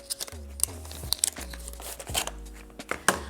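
Plastic and paper packaging of a 2005 first-generation iPod shuffle crinkles and tears in close, bursty rustles, with a few sharper crackles and no talking.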